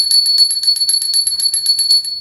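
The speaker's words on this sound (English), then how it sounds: "let's set the tone for this reading by getting out my little squirrel bell" A small squirrel bell rings in a rapid, steady jingle of bright, high metallic strikes for about two seconds, loud and close with no talking.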